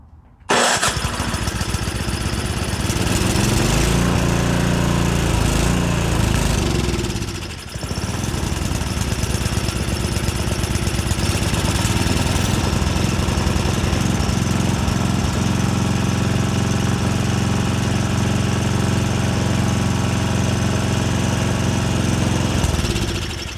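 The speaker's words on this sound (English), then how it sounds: "I'm going to use the electric start, see if that works." A Yard Machines 5HP snowblower engine turns over on its electric starter and fires, then runs loud and close at a steady idle on choke, with one brief dip in the middle.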